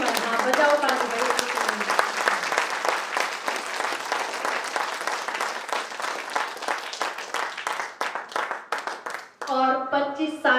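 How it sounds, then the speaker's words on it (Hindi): Audience applause fills a spiritual gathering at a Brahma Kumaris centre in Bahadurgarh, dense steady clapping from a large crowd throughout, with voices heard under it and a brief patch of speech near the end. "बजाओ ताली बजाओ"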